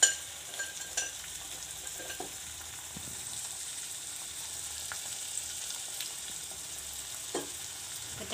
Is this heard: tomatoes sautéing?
yes